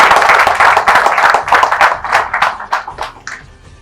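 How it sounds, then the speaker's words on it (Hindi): A group claps for Krishna at a festival gathering: loud, quick rhythmic hand claps follow one another steadily for several seconds, then thin out and soften toward the end. "ये ताली तो बजनी चाहिए ना, उनके लिए बजनी चाहिए"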